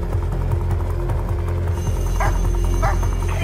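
A police dog barks in repeated bursts over a loud rumbling engine and background noise, with occasional voices nearby.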